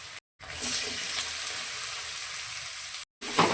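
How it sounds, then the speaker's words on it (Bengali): Onions sizzle steadily in hot oil in a wok, a close, continuous frying hiss tempered with bay leaf and black cumin, broken by two brief silent gaps. "পেঁয়াজগুলো একটু ভাজা ভাজা করে নেবো।"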